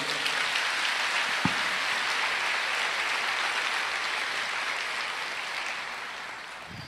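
A church congregation applauds steadily and loudly for the whole stretch, a dense wash of many clapping hands with no voices over it, tapering slightly toward the end.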